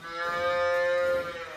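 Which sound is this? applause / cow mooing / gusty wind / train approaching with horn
cow mooing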